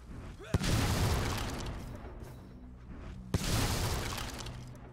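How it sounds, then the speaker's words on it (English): Wooden barrels smash in Fable 3: two sharp, loud breaking crashes a few seconds apart, each followed by a rumbling debris tail. "now I'm destroying all the barrels"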